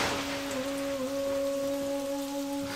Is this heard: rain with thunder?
yes